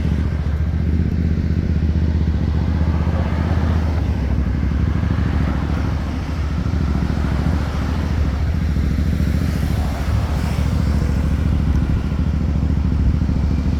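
Motorcycles and road traffic rumble steadily at a pedestrian crosswalk in Budapest, a continuous loud engine drone with passing vehicles and no talking.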